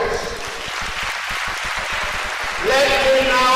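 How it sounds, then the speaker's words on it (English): Applause for parents at a university convocation ceremony in a large hall, steady crowd clapping with distinct hand claps, loud and continuous, with a voice speaking over it near the end. "A round of applause for our parents"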